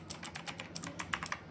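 Keys clack on a TVS Gold mechanical keyboard, a quick run of crisp, close clicks in an uneven typing rhythm with no talk.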